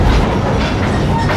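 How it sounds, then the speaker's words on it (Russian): A freight train rolls away close by, a loud, dense rumble of heavy wagons with rhythmic wheel clatter on the rails, brief and continuous. "Состав уезжает на моих глазах"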